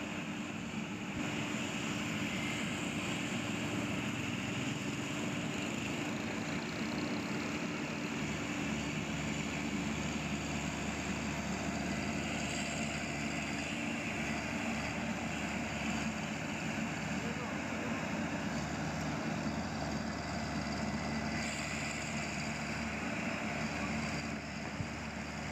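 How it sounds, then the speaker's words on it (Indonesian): Small excavator clearing leftover soil and mud after a flood in Simpang Manunggal, Batu Sangkar, its engine droning steadily and loudly throughout with a constant mechanical hum. "Ini mesin ekskavator kecil yang bekerja membersihkan sisa-sisa tanah."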